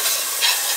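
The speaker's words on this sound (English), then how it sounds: "So let that saute for a little bit." Food sautés in a pan for Cambodian hot pot, giving a close, steady sizzle with a slight surge partway through.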